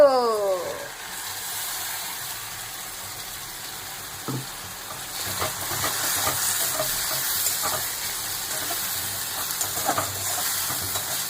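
Poppy seeds sizzling and being stirred in a frying pan with chopped onion, a steady hiss broken by scraping spoon strokes and clinks, loud and close.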